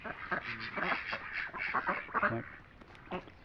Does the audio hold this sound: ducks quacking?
yes